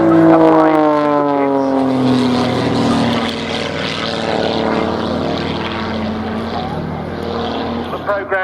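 A Pitts Special aerobatic propeller biplane performs at the RAF Cosford Airshow, its loud buzzing engine and prop drone rising and falling in pitch as it hovers at high angle of attack, with a commentator talking over it.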